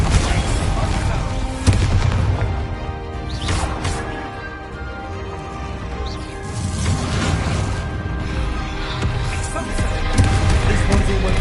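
Spell blasts in Hogwarts Legacy combat, loud booming explosions and crackling impacts over a constant throbbing battle backdrop, with spoken incantations between the bursts.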